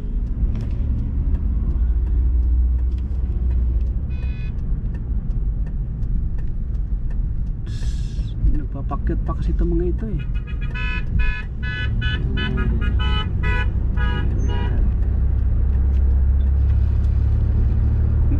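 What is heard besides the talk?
car traffic on the road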